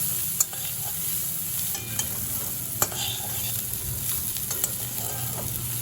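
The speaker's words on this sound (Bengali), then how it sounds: "এবার ছোলার সাথে নারকেলের সাথে আলুর সাথে খুব ভালো করে একটু ভেজে নেব।" Chickpeas, coconut and potato fry and get stirred in a pan for a vegetarian Bengali pumpkin dish: a steady low sizzle runs throughout, broken by a few sharp clicks of the spoon against the pan.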